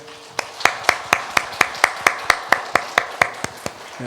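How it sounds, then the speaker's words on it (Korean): Church congregation clapping in unison during a Sunday worship service, about fifteen sharp, evenly spaced claps in a steady rhythm, fairly close and clear with no talking over them. "여러분이 박수를 한번 하겠습니다"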